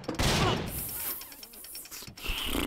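Rapid bursts of gunfire in the video game Half Dead 2 with a booming cannon blast, loud and close, with a voice shouting over the action.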